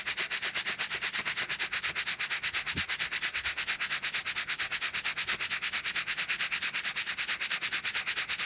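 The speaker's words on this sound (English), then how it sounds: "that's a total of 100 strokes on the nylon" Nylon fabric is rubbed in steady, rapid friction strokes, a continuous rhythmic scratching that keeps an even, quick pace throughout, close and fairly quiet, with no voices.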